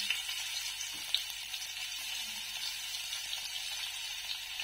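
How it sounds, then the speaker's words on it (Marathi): Garlic frying in hot oil while cooking a village-style goat mutton yellow curry, giving a steady, soft, continuous sizzle with a few faint crackles and no talking. "लसूण टाकते थोडासा"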